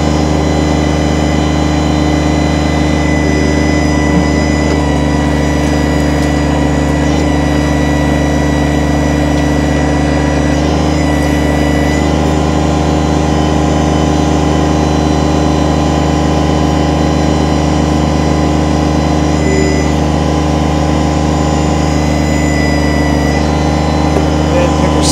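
A 2010 Kubota BX25D sub compact tractor loader backhoe with a 4x4 runs its engine at a loud, steady idle close by. The even rumbling drone and hum hold for the whole stretch.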